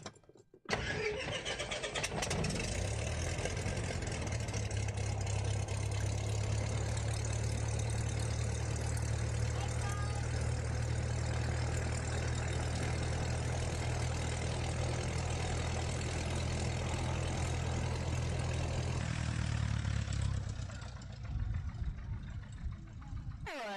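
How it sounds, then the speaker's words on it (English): Small propeller airplane engine at an airshow cranks over and catches, then settles into a loud, steady idle with a deep throbbing drone for about eighteen seconds before it eases off near the end. "That's put a little bit of gas in the engine so that we can start it."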